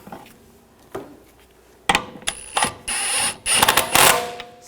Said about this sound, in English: Get the lug bolt started.